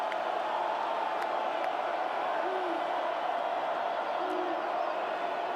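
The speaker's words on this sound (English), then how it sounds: "Crowd on its feet on third and long." At a Texas Tech versus West Virginia college football game, the stadium crowd on its feet for a third-and-long play makes a dense, steady roar with no break.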